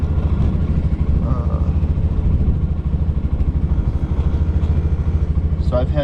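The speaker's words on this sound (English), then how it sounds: "small portable air compressor for a number of years" A small portable air compressor runs with a loud, rough, rapidly pulsing motor chug and rattle, close by and steady, while someone talks over it.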